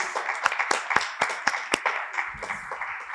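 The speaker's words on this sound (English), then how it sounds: "I really want to just take a minute to applaud these climate leaders" Applause from an audience honouring climate leaders at a women's ocean and climate event at COP30, a thinner scatter of distinct claps with sharp individual hits standing out, moderately close and steady throughout.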